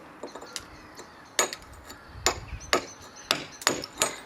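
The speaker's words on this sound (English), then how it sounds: "You have to be careful again as you're chiseling off here" A hammer striking a chisel to cut away damaged brick on a house wall: sharp, moderately close metallic taps at an irregular pace, with no talking.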